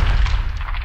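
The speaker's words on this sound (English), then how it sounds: "And the lovely crackle of the explosion there." A produced explosion sound effect layered in an audio editing session, a loud deep boom with crackling debris on top, one short blast fading quickly.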